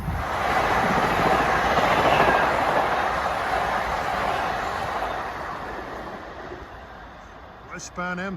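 An LIRR commuter train, number 756 from Grand Central to Hempstead, rumbles loudly past Forest Hills station, the roar steady and then gradually fading, with a brief sharp horn-like tone near the end.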